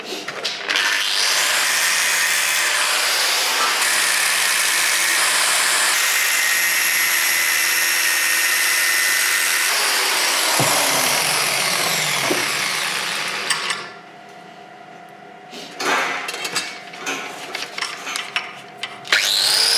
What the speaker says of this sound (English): it's time to cut the frame pieces